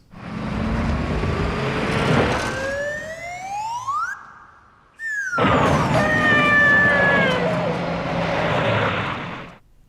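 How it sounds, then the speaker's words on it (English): Whistling slide effect from the car stunt in The Man with the Golden Gun, where the car does a 360 spin over a river. Two loud sweeping whistles rise over a roaring engine, broken by a short gap, with swirling harmonic tones after it. "that is the whistle noise that we get when his car does a 360 over the river"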